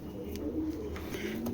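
A young giribaj pigeon coos softly in low, rolling notes, a steady murmur running through the whole moment with faint chirps above.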